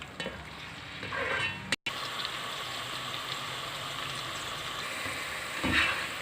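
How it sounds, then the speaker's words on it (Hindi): Onions frying in oil in a pot, a soft, steady crackling sizzle with occasional stirring sounds, close and fairly quiet, with a brief cut near two seconds and a louder stir toward the end. "ये मैंने देगची में ऑयल डाल लिया और अब इसमें हम प्याज को फ्राई कर लेंगे, इसको ब्राउन कर लेंगे।"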